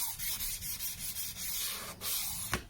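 A Mora Hunter 1701 Scandi-grind knife being sharpened on a coarse, aggressive stone with firm pressure, giving steady close rasping strokes in a continuous back-and-forth rhythm and a sharper scrape near the end.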